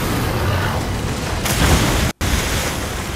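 A grenade explosion in the Nioh video game: a broad, rumbling boom swells over a continuous noisy wash, cut by a brief dropout of silence before the rumble resumes, with no talking.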